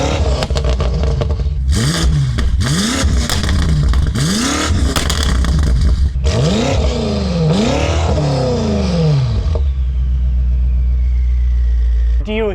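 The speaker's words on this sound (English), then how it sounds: "Let's hear what that S63 twin turbocharged V8 with downpipes sounds like." BMW F90 M5 with its S63 twin-turbocharged V8 and downpipes, loud close-up revving in repeated rising and falling sweeps, with turbo spool, pops and crackle between blips, settling into a steady idle.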